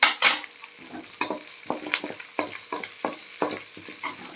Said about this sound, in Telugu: కొంచెం కరివేపాకు వేస్తున్నాం